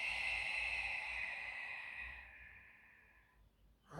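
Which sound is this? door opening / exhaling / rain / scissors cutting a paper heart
exhaling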